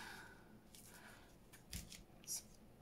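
Paper being cut with scissors for a junk journal: a few soft snips and rustles, quiet and close, with one sharper click near the end.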